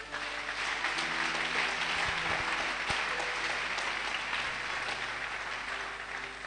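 A church congregation bursts into sustained applause at a service, a dense wash of many hands clapping together that holds steady and slowly thins toward the end.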